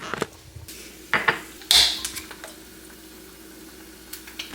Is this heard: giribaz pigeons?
no